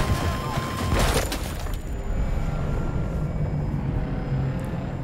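A helicopter in the video game Battlefield 2042 gives a continuous, loud rotor and engine roar during large-scale combat, with a burst of broadband noise near the start and a steady drone after it.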